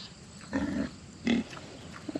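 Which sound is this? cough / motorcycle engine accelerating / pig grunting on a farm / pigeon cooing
pig grunting on a farm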